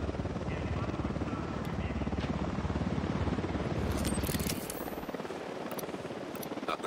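Helicopter rotor chopping steadily in a tactical shooter set in Bolivia, a loud rhythmic thrum that thins out partway through as the beat fades, with faint clicks near the end.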